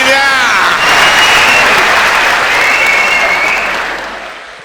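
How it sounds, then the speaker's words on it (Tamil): A large studio audience at a Tamil pattimandram debate show breaks into sustained, loud applause, a dense wash of clapping holding steady for several seconds before tapering slightly at the end. "இவ்வளவு பேர் கைதட்டுறாங்கன்னா அர்த்தம் என்ன?"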